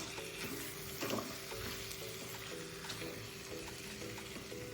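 Cauliflower and green peas cook in a pan with a faint, steady sizzle and occasional soft stirring scrapes. No one speaks.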